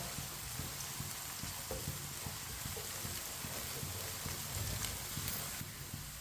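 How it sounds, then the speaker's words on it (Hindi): Onions, ginger and garlic frying in a pan, a steady soft sizzle with faint crackling throughout, fairly quiet and close, no talk. "साथ में हमारा अदरक और लहसुन भी पक जाएगा"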